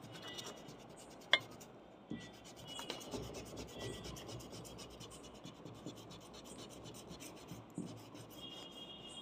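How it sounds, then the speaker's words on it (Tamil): An eraser rubs out pencil lines on paper in quick, close, soft scratching strokes, irregular in rhythm, with a few sharper scrapes along the way. "இப்போ இதை இரேஸ் பண்ணிடலாம் இங்கேருந்து இது வரைக்கும்."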